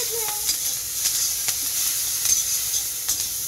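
Hot oil sizzles in a kadai (wok) while Maggi noodles are cooked: a steady bright hiss runs throughout, broken by scattered light clicks and stirring scrapes.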